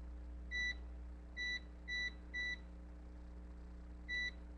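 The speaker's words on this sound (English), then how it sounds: "thank you for reminding me to set a timer" Kitchen timer beeping while being set during bread making: five short, clean electronic beeps, four in a quick uneven run and one after a pause, over a low steady hum in a quiet room.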